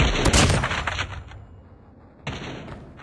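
Sniper gunfire in Call of Duty Mobile: a sharp loud shot cracks at the start and rings out, followed by a quiet lull and a second, lighter report near the end.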